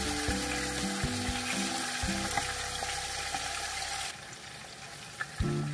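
Two tuna steaks frying in a large pan, with a loud continuous sizzle over a run of rhythmic mechanical clicking and humming that stops partway, then a couple of sharp taps near the end.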